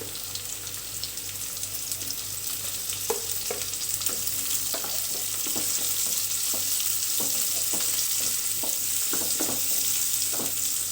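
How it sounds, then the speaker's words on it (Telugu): Onions and carrots frying in a pan for oats upma, a steady close sizzle with repeated stirring scrapes and clinks, no talking. "కొంచెం ఆనియన్స్ బ్రౌనీ కలర్ వచ్చిన తర్వాత క్యారెట్ యాడ్ చేసుకోవాలి"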